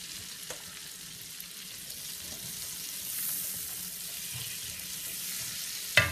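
Onion sizzles gently in a pan for a beef stroganoff, a faint, steady frying hiss with a sharp clink near the end.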